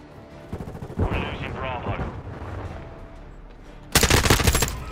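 Shotgun fire in Call of Duty Modern Warfare II beta multiplayer: scattered gunfire under players talking, then a loud dense burst of shots near the end.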